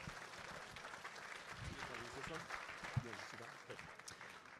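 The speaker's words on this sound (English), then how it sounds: "Give yourselves a big round of applause." Applause from a gala audience at the Minnesota Landscape Arboretum, steady and moderately loud, with a murmur of voices mixed in throughout.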